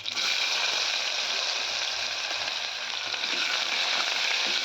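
Chopped onion frying in hot oil with mustard seeds and cumin, a steady close hissing sizzle that holds evenly throughout with no talk.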